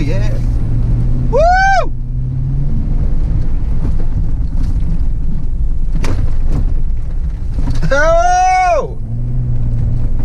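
A 2015 Jeep Wrangler Rubicon accelerates through flood water in Myrtle Beach, SC, with a loud, steady rush of water and engine under wind buffeting. People whoop and shout excitedly twice over it.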